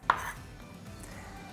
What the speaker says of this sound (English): I'm going to run the knife through, chopping these into smaller pieces